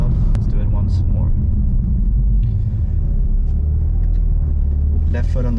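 A BMW M4 Competition engine holds a deep, steady rumble near the mic through a launch-control hold, with a rising rev flare toward the end.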